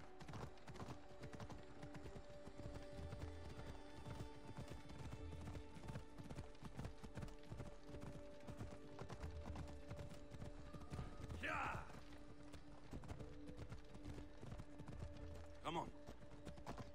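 Horse hooves trotting in the video game Assassin's Creed Odyssey, a steady rhythmic clip-clop over a game soundscape with a couple of brief louder accents, faint and continuous.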